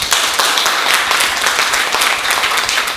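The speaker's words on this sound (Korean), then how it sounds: "다시 한번 힘찬 박수 부탁드리겠습니다" A crowd of listeners claps steadily for about three seconds after a politician's hour-long lecture at a district office hall, a dense, sustained wash of applause with no talking over it.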